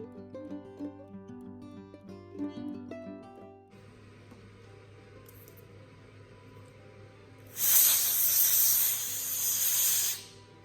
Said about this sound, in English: We have made a notch by cutting through the enamel.